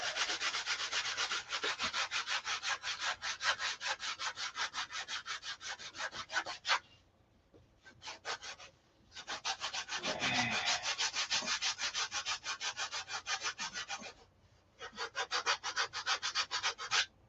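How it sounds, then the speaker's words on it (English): Rhythmic sanding, rapid back-and-forth scraping strokes on wood, close and loud, with a couple of short pauses between bursts. "You're just sanding."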